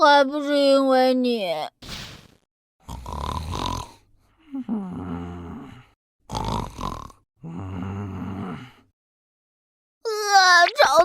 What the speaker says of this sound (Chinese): 爸爸，你打呼噜那么大声